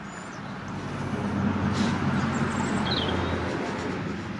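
Road traffic passing near a roadside patch of early spring snowdrops in Ireland, a steady low rumble that swells and fades as a vehicle goes by, with faint bird calls above.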